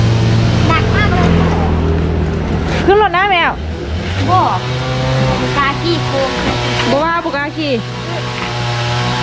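A loud, close motor vehicle engine revs and drones continuously along a village road, its pitch rising and falling, while people talk over it.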